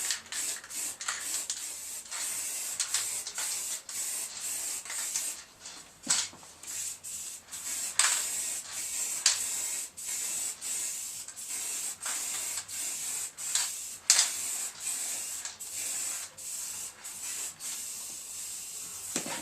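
An aerosol spray paint can sprays a Harley 883 Iron belly pan in a garage, with repeated sharp hissing bursts separated by short pauses, close and fairly loud.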